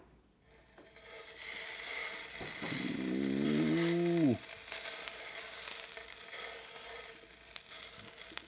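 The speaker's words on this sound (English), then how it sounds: "Going in, you can hear the sizzle." A5 Wagyu beef sizzles loudly on a hot grill, a steady bright crackle starting early and running throughout, with a short exclamation partway through.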